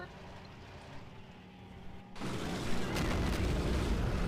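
A Jagdtiger tank cannon in Men of War fires a heavy direct hit, a sudden loud broadband boom midway that leaves sustained, rumbling battle noise afterward.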